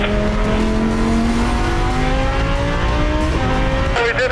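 Supercar engine with a rich-running flame tune on a racetrack, loud and close, revving steadily and climbing in pitch, ending with a sharp change in tone near the end.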